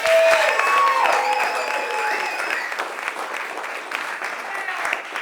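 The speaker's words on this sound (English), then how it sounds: "So let's give him another round of applause." Wedding guests break into a round of applause, loud and close at first, then thinning into scattered clapping, with a voice speaking over it.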